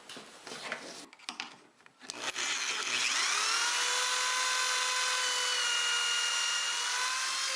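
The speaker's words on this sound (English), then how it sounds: "Now I can go ahead and drill that pocket hole." A few scrapes and knocks, then a power drill spins up and bores a pocket hole into pine wood, a loud continuous whine lasting several seconds.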